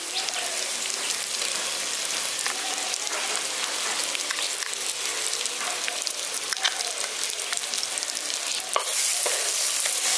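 Poppy seed and mustard paste stirred into frying tomato and onion, a steady close sizzle with scraping stirring strokes and occasional spatters, growing louder and brighter near the end.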